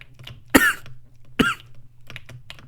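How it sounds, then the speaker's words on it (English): A person coughs twice, near and moderately loud, with faint keyboard tapping in the background. "Sorry, I have a cough right now"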